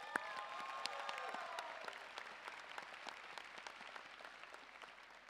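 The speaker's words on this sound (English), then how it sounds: "Can we give our teachers and WISE High School staff a round of applause?" At the Dr. Henry A. Wise, Jr. High School 2023 commencement, a large audience applauds teachers and staff: faint, distant, dense crowd clapping that gradually thins and fades.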